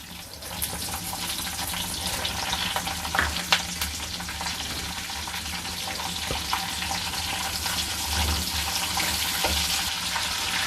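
Green chilies and curry leaves crackle and sizzle loudly in hot oil in a clay pot for prawn drumstick curry, a dense continuous spitting fry close at hand with occasional sharper pops.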